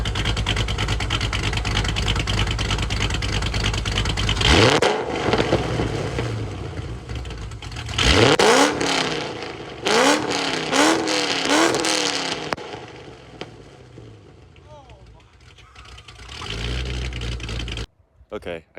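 2005–2009 Ford Mustang GT V8 with Valvetronic mufflers open, on a rough early idle tune, rumbling at idle and then blipped into several loud, sharp revs that fall back to a lumpy idle, with brief talk in between.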